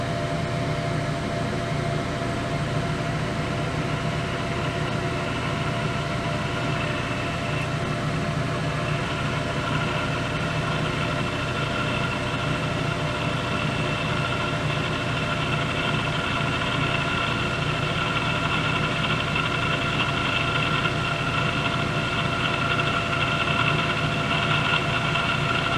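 Steady lathe hum as a carbide Holdridge radius cutter takes a light cut of a few thousandths on a turned diameter at reduced spindle speed, a continuous mechanical drone with high whining overtones and no talk.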